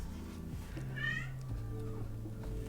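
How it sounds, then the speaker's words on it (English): A house cat meows once, a short rising call heard near and fairly clear over a steady low hum and background music. "My cat needs to be let out."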